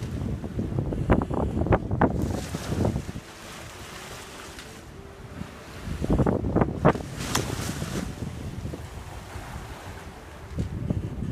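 A sailboat crosses the open ocean between Tonga and Fiji, with strong gusts buffeting the microphone in loud bursts over a constant rush of waves and water against the hull.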